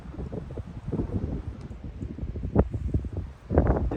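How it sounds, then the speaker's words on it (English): Gusty wind buffets the microphone on an exposed hilltop along a quad trail, producing low rumbling bursts and rustling that rise and fall, with a stronger gust near the end. "It is kind of windy up top."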